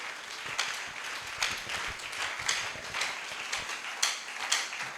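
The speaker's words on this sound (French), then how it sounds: "Est-ce qu'on peut acclamer le nom de Jésus?" A church congregation claps in acclaim of the name of Jesus, giving a steady, moderately distant patter of rhythmic clapping with no voices.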